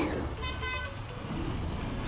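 Busy road traffic with a car horn tooting a few times among passing vehicles and engine hum, someone talking over the noise throughout.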